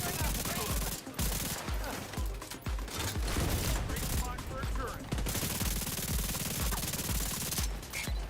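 Sustained automatic assault rifle fire in The Division 2, loud dense bursts of rapid shots running almost continuously with brief gaps.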